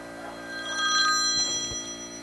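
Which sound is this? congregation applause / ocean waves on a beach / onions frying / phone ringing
phone ringing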